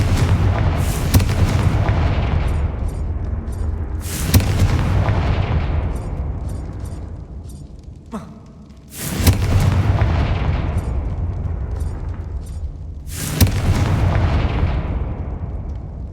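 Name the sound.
Confringo blasting spell explosions in the video game Hogwarts Legacy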